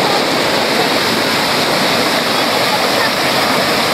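Rushing water pours at the Cachoeira do Prata waterfall, a loud, constant broadband roar that fills the whole moment without letup, heard close with no clear talk over it.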